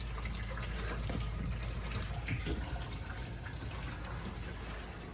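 Water runs steadily from a homemade fitting into the water tank of a converted coach camper, a continuous close rushing and trickling flow with no talk over it.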